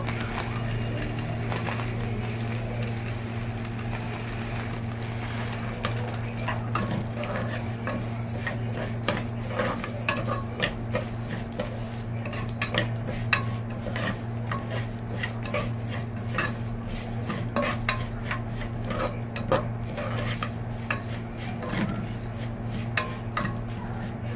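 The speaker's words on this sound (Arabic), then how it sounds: "هنحمرها بقى لما توصل للون البني او الذهبي" Vermicelli is stirred and fried in a pan until it browns, giving continuous close clinks and scrapes of a utensil against the metal over a low steady hum, with no talking.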